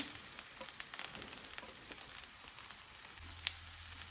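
Onions fry in a pan for idli upma, giving a faint, steady crackling sizzle with light stirring ticks and a low hum toward the end.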